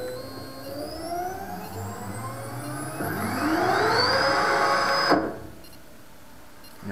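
A rebuilt laser cutter's belt-driven motor spins up fast and smooth, its rising whine climbing steadily in pitch and loudness over several seconds before cutting off abruptly, leaving a quieter hum.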